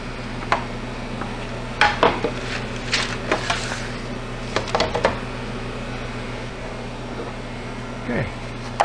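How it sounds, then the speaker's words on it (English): Egg and milk mixture is transferred into freeze dryer trays. Scattered clinks, taps and scrapes of a utensil against metal trays sound close by over a steady appliance hum. "So transferring the eggs into the trays."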